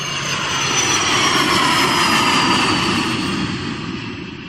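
An airplane engine roars loudly and steadily overhead, a broad sustained drone that swells and then slowly fades.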